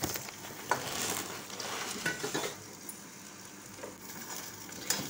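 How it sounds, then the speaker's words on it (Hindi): Soybean chunks fry in hot oil in a home kitchen pan, a faint steady sizzle broken by scattered clicks and scrapes of a stirring spoon against the pan. "देखिए यहाँ पे तेल में डाल के मैं कुछ देर के लिए फ्राई करूँगी"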